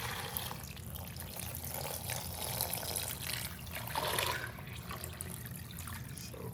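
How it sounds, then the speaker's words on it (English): Steady stream of water pouring into a pan while cooking steak, a continuous close splashing trickle that swells slightly near the end, with no talk. "we're gonna add our water right on top here"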